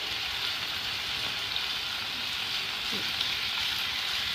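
Chicken pieces sizzling in a pan, a steady dense frying hiss that runs continuously and evenly at close range with no talk over it.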